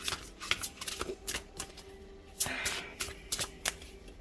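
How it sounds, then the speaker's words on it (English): Tarot cards are shuffled by hand close up, a rapid series of crisp riffling flutters and soft slaps in uneven bursts, with no talking. "Okay, let me shuffle."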